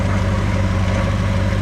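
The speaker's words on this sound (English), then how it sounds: "Look how smooth that engine runs." A 1964 Ford Fairlane 500 hardtop's engine idles close by after long storage, a loud, steady low-pitched rumble that holds evenly throughout with no talk over it.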